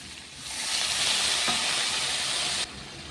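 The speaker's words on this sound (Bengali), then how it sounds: "এই দেখুন এবার জল দিয়ে দিচ্ছি" Water poured into hot oil and spices for rohu fish curry, a loud, broad sizzle that surges up and holds steady for a couple of seconds before cutting off abruptly.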